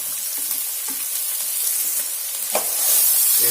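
Onions, green chillies and dried red chillies being stirred in a hot frying pan, a steady close sizzle with scraping spoon strokes and one sharper clatter near the end, no talking.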